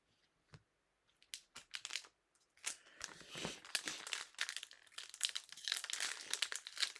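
Paper crumpling and crinkling while a collector opens soccer trading card packs, a run of sharp rustling bursts that starts sparse and grows into near-continuous, close-up crackling, with no talk over it.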